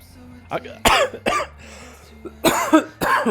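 Several short, sharp coughs and throat clearings in quick bursts, close and fairly loud, during a gaming livestream, with brief quiet gaps between the fits.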